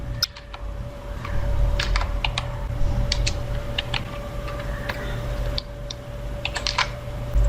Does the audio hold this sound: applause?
no